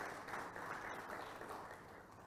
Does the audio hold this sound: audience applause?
yes